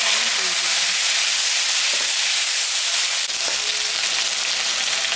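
Potato and eggplant pieces fry in a pan with a loud, even, close sizzling hiss that runs unbroken, with a faint clink partway through.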